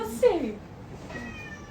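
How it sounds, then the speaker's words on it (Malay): A house cat gives a short, clear meow close by, with people talking in Malay around it. "Kucing rumah ni."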